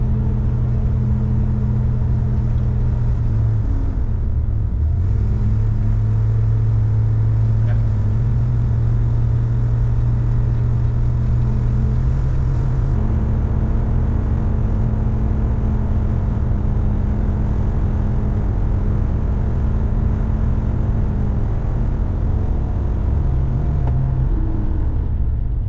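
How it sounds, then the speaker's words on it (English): An old car cruising on the road out of town after refueling, with a steady loud engine drone and road rumble, the pitch shifting slightly as it changes speed, no talking. "we got all fueled up with fuel and heading out of town now, so here we go."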